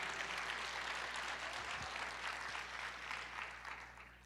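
A church congregation applauding: a continuous, fairly soft crowd clapping wash over a steady low hum, easing off toward the end.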